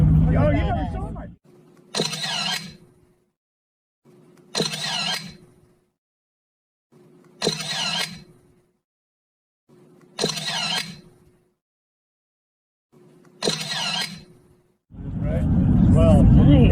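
A modified old Honda motorcycle engine revving hard in repeated bursts, six or so loud roaring blips separated by brief silences, close by, with voices talking at the start and end.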